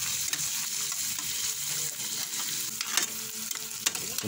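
Spaghetti sauce goes into a hot frying pan, with steady close sizzling and frying and the scrape of stirring throughout, plus a few sharper clicks of a utensil against the pan.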